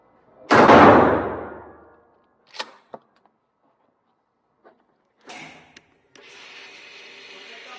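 A loud, booming blast from a Boito pump shotgun with a 24-inch barrel rings out and fades over about a second, followed by sharp mechanical clacks and shuffling, then a steady hiss.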